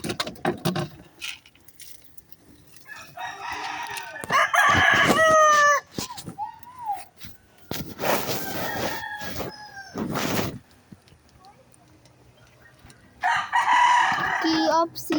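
A rooster crows repeatedly, loud and close, with several drawn-out calls spread through the clip alongside clucking fowl; no clear speech over it.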